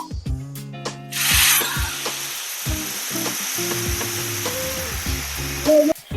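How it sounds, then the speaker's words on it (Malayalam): Boiling water rushes into a hot pan of vermicelli upma with a loud burst of sizzling, preceded and followed by scraping and clinking of a utensil against the pan. "ഇതിലേക്ക് നല്ല ചൂടുള്ള തിളച്ച വെള്ളം ഒഴിക്കുക"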